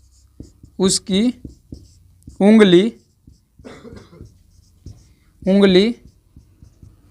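Chalk or a marker scratches and taps on a board during a Hindi grammar class, in short close strokes spread between a teacher's spoken phrases.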